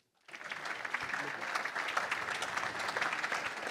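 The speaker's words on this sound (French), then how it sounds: "je vous demande de l'applaudir très fort" A conference crowd at a summit bursts into loud applause as a speaker comes on stage, rising quickly from silence into a dense, sustained roar of clapping close to the microphone.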